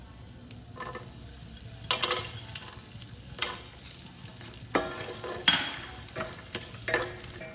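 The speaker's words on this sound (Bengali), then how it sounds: "লো ফ্লেমে আমি কাজু কিশমিশটা তিরিশ চল্লিশ সেকেন্ড মতো ভেজে নেব" Cashews and raisins frying on a low flame, a soft continuous sizzle broken by repeated scraping stirs of a spoon against the pan at irregular intervals.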